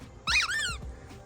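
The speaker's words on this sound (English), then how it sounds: "Step on the old squeaky ball." A squeaky toy ball stepped on gives one sharp, bright squeak with a short second squeal, close and fairly quiet, in an otherwise calm outdoor space.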